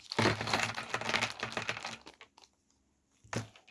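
Clue board game pieces being taken out of the box, a rapid clatter of small plastic and metal tokens rattling and clicking together, followed by a pause and one last brief rattle.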